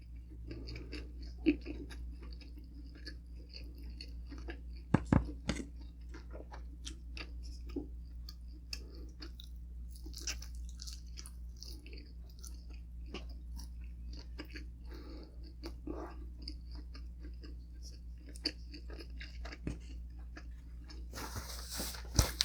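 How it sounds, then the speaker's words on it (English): Crispy pata pork dipped in spicy vinegar is chewed in faint, crunchy bites scattered over a low steady hum, with occasional sharper crackles standing out. "Okay, let's eat the meat."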